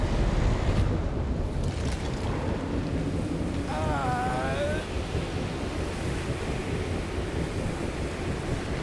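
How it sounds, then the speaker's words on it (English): Steady gusting wind roars in Marvel's Guardians of the Galaxy, a broad continuous rush with no pauses and faint voices underneath. "This wind shall not break our determination!"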